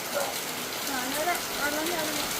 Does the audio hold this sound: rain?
yes